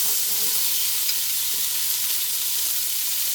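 Chopped onion sizzles steadily in a hot frying pan for a Jamaican dish, a constant bright frying hiss with no talk over it.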